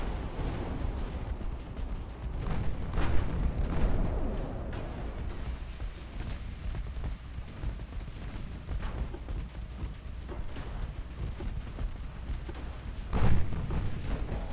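Naval gunfire hits a ship in the warship battle game Ultimate Admiral: Dreadnoughts, a dense rumble of distant booming salvos and impacts that rolls on throughout, with a sharper blast near the end.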